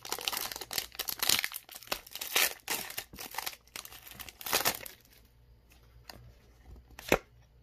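A Pokémon Sword and Shield booster pack wrapper is torn open and crinkled close up, with bursts of crackling plastic, a quieter pause, and a final sharp rip.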